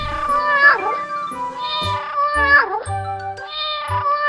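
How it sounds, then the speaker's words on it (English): A cat meows loudly several times, drawn-out and wavering, alongside light background music with a steady beat. "Cat."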